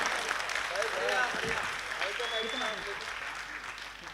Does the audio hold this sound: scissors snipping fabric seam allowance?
no